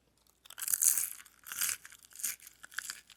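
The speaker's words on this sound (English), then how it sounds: "You hear that crunch?" Crispy, non-soggy fries from a New Jersey fast-food meal crunch up close in three or four sharp, crackly bites, loud and dry against near silence.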